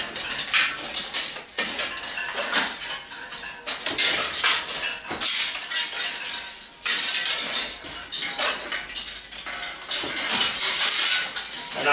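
904 stainless steel flexible flue liner for a multi fuel stove being uncoiled, a long run of dense metallic rattling and scraping with sharp clanks, steady and close, no talking.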